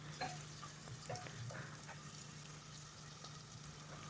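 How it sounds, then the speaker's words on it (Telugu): Onions fry in heated oil in a cooker, giving a soft, even crackle and hiss with a few light pops and spoon touches early on, fairly faint and without speech. "ఆయిల్ హీట్ అయిన తర్వాత ఆనియన్స్ వేసుకోవాలి."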